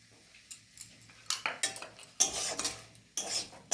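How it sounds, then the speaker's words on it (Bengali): A spoon scrapes and clinks against a pot while potato and drumstick flower curry is stirred after a little raw oil goes in, giving several separate close bursts of scraping with short quiet gaps between them. "নাড়াচাড়া করে তেলটা মিশিয়ে দিচ্ছি।"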